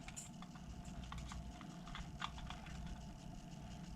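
A zip tie is ratcheted tight on an OFNA Ultra MBX Pro nitro RC buggy, producing a quick series of small close clicks and ticks over a low steady background hum, with no voices.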